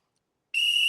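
A single whistle is blown sharply and shrilly after a moment of silence, holding one steady, piercing tone up close.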